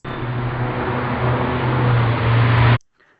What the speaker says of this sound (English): we should be able to hear the car passing sound